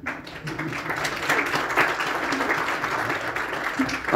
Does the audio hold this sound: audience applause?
yes